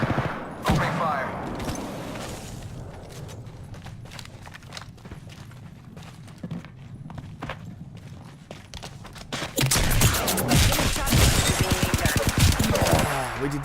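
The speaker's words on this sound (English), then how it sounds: "We did heaps of damage with those shotgun shots." Shotgun blasts and rapid gunfire from an Apex Legends match crackle through game audio, with footsteps and action sounds; firing grows denser and louder in the final few seconds, under occasional player chatter.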